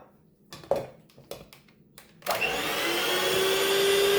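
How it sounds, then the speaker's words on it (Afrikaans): An electric mixer beats biscuit batter with an egg and vanilla essence. A few sharp knocks and scrapes come first, then the motor starts with a steady, loud whir that runs to the end. "En ons gaan dit net weer klits."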